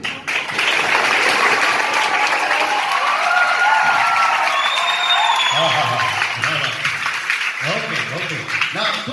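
A church congregation claps loudly and steadily in sustained applause, filling the room with dense, continuous clapping that tapers slightly toward the end as voices begin to come through.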